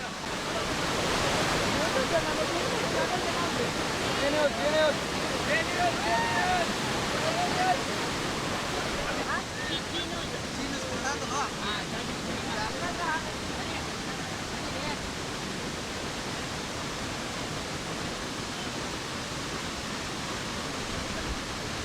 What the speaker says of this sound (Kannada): ಹಾಲ್ನೊರೆಯ ರೀತಿಯಲ್ಲಿ ನೀರು ಉಕ್ಕಿ ಹರಿತಾ ಇದೆ